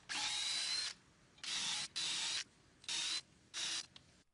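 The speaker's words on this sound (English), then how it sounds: "I start by attaching the drill bit to my drill and dig into each hole" A power drill bores screw holes for a heavy-duty fence post anchor repair kit, whirring loudly in five or six separate bursts of about half a second to a second each, with short pauses between them.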